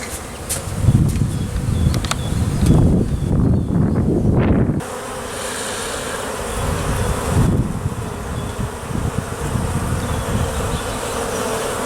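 Honeybees buzzing steadily at a beehive entrance in early spring after winter, a dense close swarm hum with individual bees zipping past the microphone, continuous for the whole stretch without speech.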